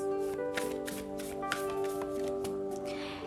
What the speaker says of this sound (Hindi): मैं पहले ऑरेकल कार्ड्स को शफल करूंगी गाइस।